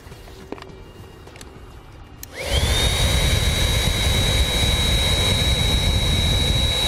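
An electric air pump kicks on partway through to deflate a rear-seat air mattress, starting with a rising whine and then settling into a loud, steady close-up drone after a few quiet handling noises.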